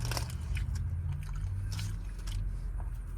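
Crunchy Taco Bell taco bitten and chewed inside a car, a crisp crunch at the start followed by softer chewing and scraping sounds close to the microphone.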